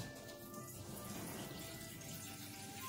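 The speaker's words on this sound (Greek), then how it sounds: "βάζουμε μέσα νερό" Water runs steadily from a tap into a pot for boiling chickpeas, a continuous splashing gush at close range with no talking.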